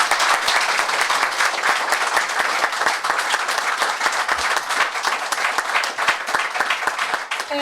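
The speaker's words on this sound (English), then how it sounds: "A very big round of applause for our panelists" An indoor audience applauds panelists after a space-themed panel discussion, dense sustained clapping from a crowd that stays loud and even for several seconds before easing slightly at the end.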